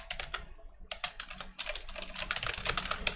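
Rapid keystrokes clatter on a computer keyboard in irregular bursts with short pauses, close up and alone, during a gaming session.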